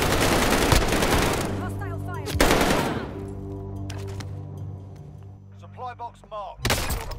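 Heavy automatic gunfire in a Call of Duty firefight, dense bursts filling the opening seconds and returning at the end, with a voice calling out between volleys.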